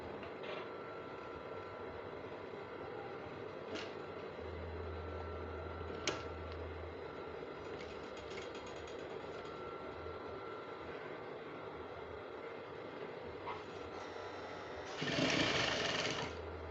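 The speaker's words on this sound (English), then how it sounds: "Then we'll now sew." A sewing machine stitches a sleeve placket on fabric, running in a steady, fast mechanical whir with a few sharp clicks and a louder burst near the end.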